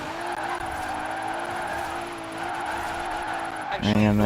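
In Forza Horizon 4, a car drifts with a sustained, slightly wavering engine drone and tire noise, steady and close. Near the end a louder burst of revving or sliding takes over.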